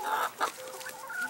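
Young hens cluck softly and close by, a few short, throaty clucks in a row over a faint background.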